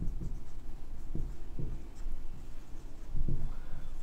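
A pen writes out a math solution on paper, close and scratchy, with short stroke bursts and brief pauses in an irregular rhythm.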